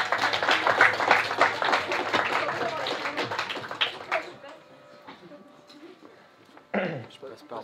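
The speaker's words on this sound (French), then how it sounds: "on applaudit" Audience applauding at a live magic show, dense clapping from a crowd that is loud at first and then thins out and fades, with people talking during and after it.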